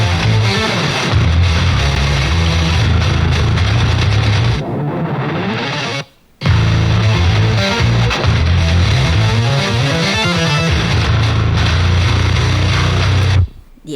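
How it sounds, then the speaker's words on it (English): Heavy metal guitar riffs played through a Bogren Ampknob Trivium amp, thick and loudly distorted with chugging low-end palm mutes, driving continuously with one brief silent break midway. "those are some beefy guitar tones too"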